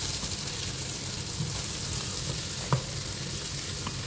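Spicy fried pork with red chili cooks in a pan under a quiet, even sizzle, with a few light knocks and one distinct clack of a utensil being stirred through, and no talking.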